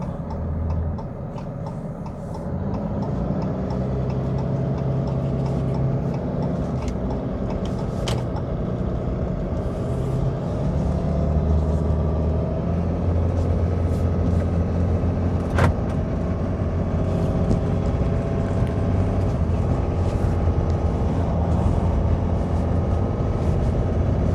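Heavy truck hauling a load of about 22,000 pounds, its engine droning steadily and straining under the weight, a continuous cab-interior rumble with faint ticking and clicks, no talking.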